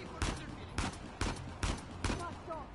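Blind-fired gunshots from cover in Uncharted: The Lost Legacy ring out as five evenly spaced, loud cracks over faint background game ambience.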